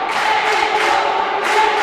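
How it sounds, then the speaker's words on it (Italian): Veneto supporters chant together in a stadium during a football match against Lazio, a loud, sustained sung crowd chorus that carries on without a break, close and full, with no one speaking over it. "suona ora più che mai il coro dei tifosi e delle tifose del Veneto"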